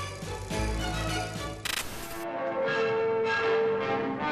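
A school bell rings out with lingering, resonant tones, a few strikes layered and fading into a sustained metallic hum.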